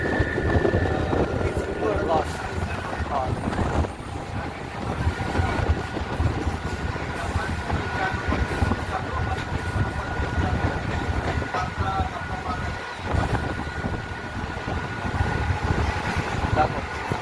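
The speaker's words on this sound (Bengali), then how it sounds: "এই কার্ভে যাচ্ছে এই ট্রেন" A passenger train runs steadily round a series of curves between Krishnanagar City and Amghata Halt, a continuous rumble and rattle of wheels with faint squeals, heard from on board.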